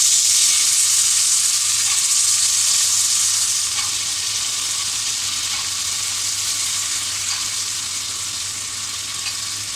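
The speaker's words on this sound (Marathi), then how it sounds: "आता आपण हे असं थोडं परतून घेऊ या तेला तेलावर आणि मसाल्यावर छान असं आपल्याला परतून घ्यायचं आहे" Black-eyed peas sautéing in hot oil with spices for a Malvani-style bean and potato dish, a loud continuous close sizzle and hiss that eases slightly toward the end, with no voices.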